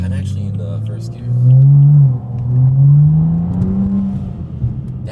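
A BMW car pulls away in first gear, its engine droning and rising in pitch twice in loud, close surges that dip between pulls.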